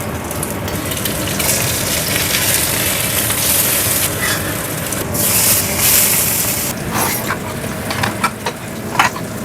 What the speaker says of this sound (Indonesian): Aku tak goreng telur.